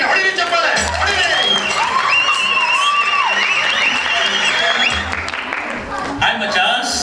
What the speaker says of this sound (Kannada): ಹೊಡಿರಿ ಚಪ್ಪಾಳೆ, ಹೊಡಿರಿ